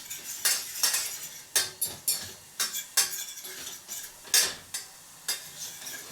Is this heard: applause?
no